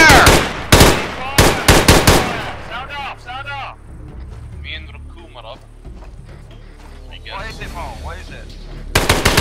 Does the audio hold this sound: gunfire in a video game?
yes